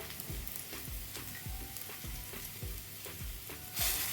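Steady crackling sizzle of cumin seeds frying in hot oil, with soft stirring scrapes recurring throughout; close and continuous, no talking.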